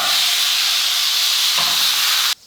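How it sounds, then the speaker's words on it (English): A pork roast sears in a hot pan with a loud, steady, close hiss of sizzling fat that holds unbroken before cutting off abruptly at the end. "I'm gonna let that sit there for a minute and not touch it so I can get a nice sear on the bottom."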